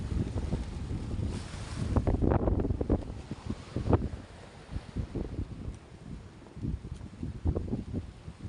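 Ocean waves surge and wash against large rocks on a shoreline at a river mouth, heard as loud, rough rushing swells heavy with wind buffeting on the microphone and no voices.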